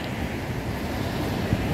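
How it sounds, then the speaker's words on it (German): Rough, churned-up sea during flooding in Alanya, a steady dense roar of surf and wind blowing across the microphone, continuous and close with no clear breaks. "ihr seht, wie aufgewühlt das Meer ist"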